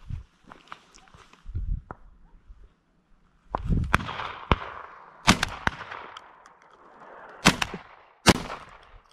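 Repeated shotgun blasts ring out outdoors during a dove hunt at irregular intervals, some distant and some close and loud, with faint rustling and movement between shots.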